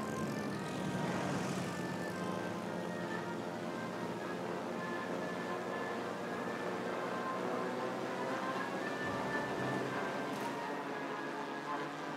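Aircraft flying in the naval battle game World of Warships: Legends, a steady droning engine hum that holds at an even level throughout with a slight swell early on.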